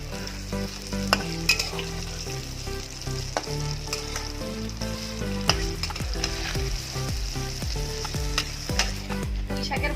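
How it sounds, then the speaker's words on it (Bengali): Malabar spinach fritters frying in hot oil in a wok after being flipped, giving a steady, dense sizzle with frequent small crackles and pops throughout, close and continuous with no talking. "পুঁই শাকের বড়াগুলো একটু লাল লাল করে ভেজে নিতে হবে"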